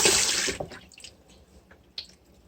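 Water splashes loudly as pork belly is rinsed in a soaking bath while making bacon, then settles into a few quiet drips and small trickles.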